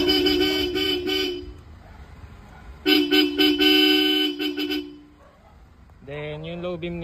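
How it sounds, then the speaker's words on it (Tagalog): A Bosch Europa horn on a Toyota Hiace van sounds in two loud, close blasts, each pulsed with short breaks between the honks, followed by a short stretch of voice at the end. "Testingin natin yung busina ni sir na Bosch Europa."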